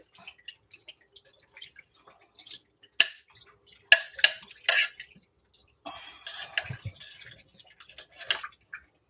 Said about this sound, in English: Now we want to dump at least the whole thing of water in there.